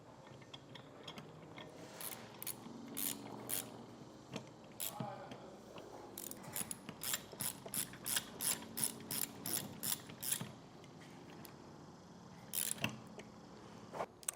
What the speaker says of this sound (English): Now I'll take our black screws and get these tightened on.